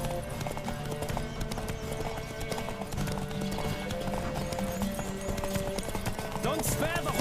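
Galloping horse hooves in a race in The Witcher 3, a steady rapid clip-clop running throughout with an occasional whinny, under a game music bed and a character's voice.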